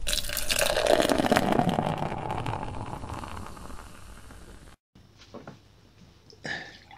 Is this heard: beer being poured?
yes